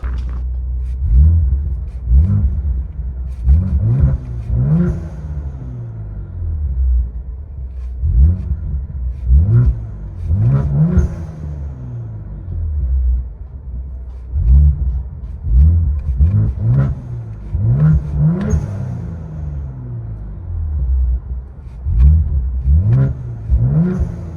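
A 2023 Ford Explorer ST with a 3.0L EcoBoost V6, downpipes and valved exhaust, heard from inside the cabin. The engine revs repeatedly, each deep rising and falling surge rumbling loud and close over a steady low drone, with no talk.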